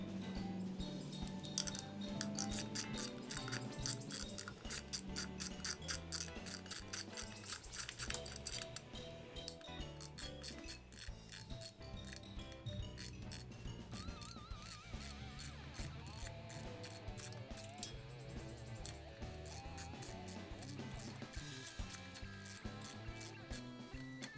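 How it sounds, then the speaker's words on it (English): A ratchet wrench loosening bolts on the sprocket cover of a Kawasaki Vulcan 500 motorcycle, with a steady run of fast, even clicks close by and a few brief pauses and changes in pace, and no talking. "We'll have to remove that too to get to a couple of little hidden bolts."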